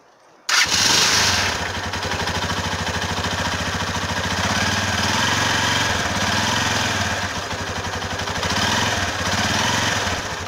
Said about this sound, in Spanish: voy a echar a andar la moto